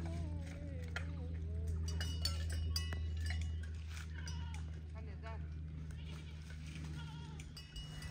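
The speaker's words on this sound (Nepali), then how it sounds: "बाख्रा" Goats bleat a few times at a modest distance on a Nepali farm, their wavering cries mixed with faint clinks under ongoing conversation.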